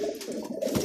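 A pigeon coos softly in a short, low, throaty burst, faint and alone.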